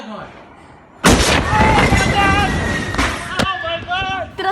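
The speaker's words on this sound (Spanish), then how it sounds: "Tras la terrible explosión en un almacén del puerto de Beirut" A warehouse explosion at the port of Beirut bursts in suddenly and loudly about a second in, then rolls on as a heavy, sustained roar with people shouting over it.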